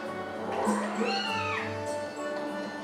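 A cat creature in the video game Zelda Skyward Sword gives a rising and falling meow over soft game music, while someone talks quietly.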